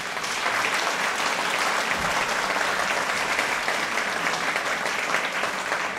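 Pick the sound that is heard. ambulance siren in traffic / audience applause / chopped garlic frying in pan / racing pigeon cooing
audience applause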